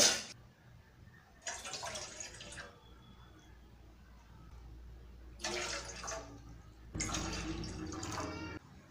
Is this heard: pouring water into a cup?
yes